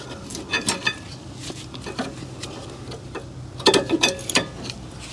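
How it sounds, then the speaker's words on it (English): Old brake pads being pried out of a rear brake caliper on a Toyota Camry, a few sharp metallic clicks and scrapes, sparse at first and then a denser cluster of clanks near the end, close up with no talking. "And then we're gonna pry out the old brake pads."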